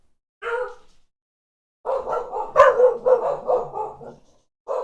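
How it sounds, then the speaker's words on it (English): A dog barks in the background, first with one short bark and then with a longer burst of several loud, close barks in quick succession, with no talk over them. "My dog's barking in the background."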